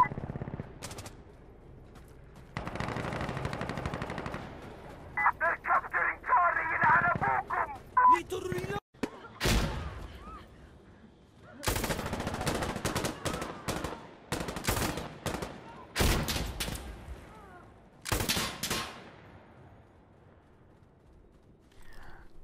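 Gunfire from the video game Insurgency Sandstorm, with loud bursts of automatic fire and sharp single shots spread across the clip, mixed with in-game sounds and some quiet speech.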